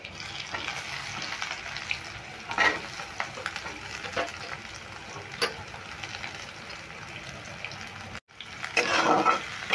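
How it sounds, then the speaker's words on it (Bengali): Chopped onion and green chilli fry in a pan, a soft, steady sizzle with occasional scraping stirs, close and fairly quiet, with a brief break near the end before the frying resumes louder. "পেঁয়াজ আর কাঁচা লঙ্কাটা খুব ভালো করে আমি একটু হালকা করে ভেজে নিচ্ছি।"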